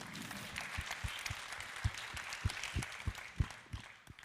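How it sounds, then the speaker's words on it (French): Applause from a trade union conference audience continues with distinct, rhythmic claps close by, thinning out and fading toward the end. "Et Julien Frémiot, que vous pouvez applaudir aussi"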